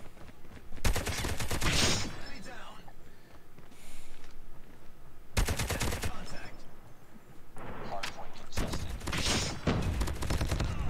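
Bursts of automatic gunfire in the mobile shooter COD Mobile, three loud rapid-fire volleys of about a second each separated by quieter stretches of game sounds and footsteps.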